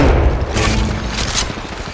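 Gunfire in the Apex Legends Mobile battle-royale game: a dense, loud burst of overlapping shots and booms rolling continuously through two seconds of close combat.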